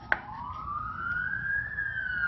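A police siren wails as a single long rising tone that climbs and holds steady, sounding moderately distant against low background rumble, with a brief sharp click near the start.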